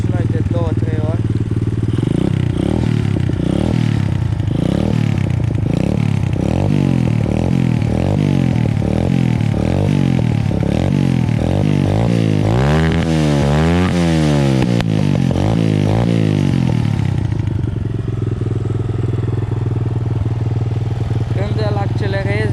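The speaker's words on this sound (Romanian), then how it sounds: "Haideți să-l accelerăm și noi de 2-3 ori." An Explorer 125cc cross motorcycle revved repeatedly, the engine rising and falling in a series of throttle blips before a longer climbing rev and a drop back to a steady idle, loud and close with occasional talk over it.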